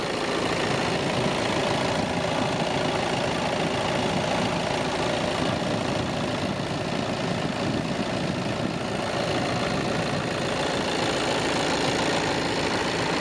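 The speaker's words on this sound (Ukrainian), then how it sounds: "Робота двигуна." A 2018 VW Tiguan 2.0 TDI diesel engine idles steadily and loudly for the whole stretch, a constant low rumble with a faint knocking texture and no voices.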